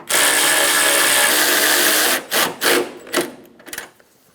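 A power tool tightens the 10mm bolts on the AC condenser of a 1988-1999 GMC K1500 truck, a loud, close continuous whir for about two seconds followed by several short bursts that fade out.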